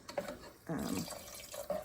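Water splashes and trickles in short bursts as it is poured into a pan for a spicy potato soup, fairly close, with someone talking over the pouring.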